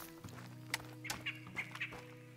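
A flock of quail in a Mississippi hunting area in Call of the Wild, giving faint, scattered clucking calls over a low steady background hum.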